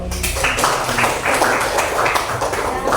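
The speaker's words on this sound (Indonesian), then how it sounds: "Tepuk tangan dulu." A classroom of students claps hands at a lesson, with a burst of rapid, fairly loud clapping and voices mixed in underneath.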